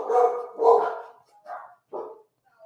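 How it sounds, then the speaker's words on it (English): Dogs bark in a few quick, moderately close woofs, two fuller barks followed by two softer, shorter ones. "Did I cue my dogs to bark?"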